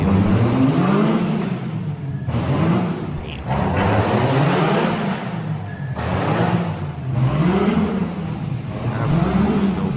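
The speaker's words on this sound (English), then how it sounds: "What you're looking at here is a twin engine EK hatch Honda Civic." The twin-engine Honda Civic EK hatchback revs repeatedly, its engine note rising and falling in a steady cycle of loud, close revs separated by brief dips.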